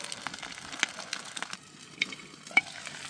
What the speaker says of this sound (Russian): Скворчит.